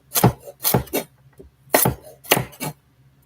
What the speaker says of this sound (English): just cut those up thin